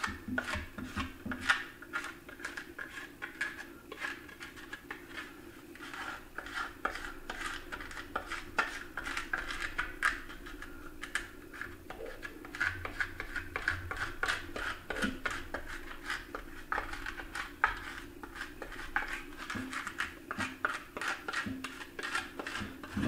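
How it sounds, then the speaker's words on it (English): A stout rougher or sandpaper scrapes over the liner of a deer cape being prepared for taxidermy, making quiet repeated rasping strokes in an uneven rhythm. "run a stout rougher or your sandpaper, either one, over your liner"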